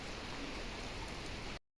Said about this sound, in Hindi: बस जोरों से बारिश आ गई।